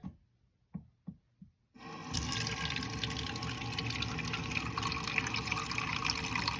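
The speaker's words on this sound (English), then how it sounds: "we are going to cover the eggs up with cold water" A few soft knocks, then a steady stream of cold water pours and splashes into a metal pot holding eggs, running continuously and fairly loud.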